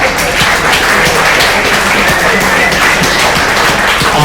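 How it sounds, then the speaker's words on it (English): Audience applause at a hackathon closing, a dense steady wash of many hands clapping throughout at full level, with no clear voices on top. "a huge round of applause for everyone"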